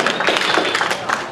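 A school debate audience applauds as a senior candidate is introduced, steady dense clapping filling the short stretch without pause.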